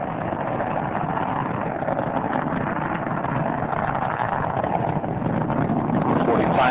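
A dense, roaring rumble of Space Shuttle Endeavour's three main engines during the STS-113 launch, throttling back, fills the whole clip, steady and loud like a distant broadband blast with a faint voice underneath.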